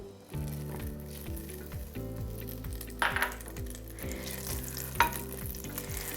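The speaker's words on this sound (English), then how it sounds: "We're going to add in about 2 tablespoons of olive oil and 4 tablespoons of butter, and let that start to" Olive oil and butter melt together in a hot pan with a continuous soft sizzle and crackle, a few brighter pops rising out of it, over a steady rhythmic background.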